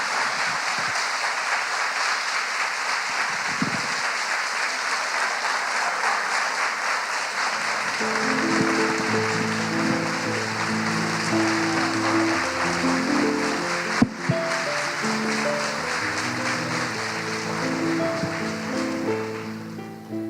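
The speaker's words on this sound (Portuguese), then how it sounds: "Vamos dar uma salva de palmas para Jesus agora," A church audience applauds strongly for a long, steady stretch after a talk, the clapping dense and continuous, with organ or keyboard chords rising beneath it partway through.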